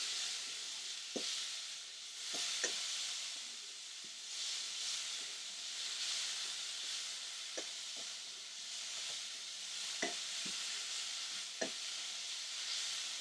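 Lardons sauté in a pan for a white cheese pasta sauce, giving a soft, steady sizzle and hiss with occasional sharp taps and scrapes as they are stirred, close by and fairly quiet.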